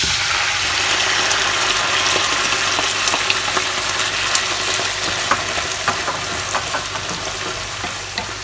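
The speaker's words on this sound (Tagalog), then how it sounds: "Kapag medyo golden brown na po ang bawang, pwede na po natin ibalik ang karne." Beef and garlic sizzle steadily in a hot pan for bistek tagalog, a loud continuous crackle broken by occasional stirring scrapes.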